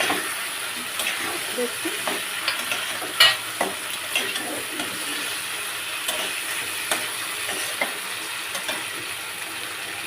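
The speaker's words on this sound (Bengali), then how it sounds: "এবারে আমি মাছগুলো দিয়ে দিলাম।" Tilapia pieces sizzle in hot spiced oil in a pan, giving a steady frying hiss with occasional sharp crackles and spatters close up, and a voice speaks briefly.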